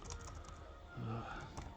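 Soft, quiet typing on a ThinkPad laptop keyboard, a short run of faint key clicks heard close up over a low background hum.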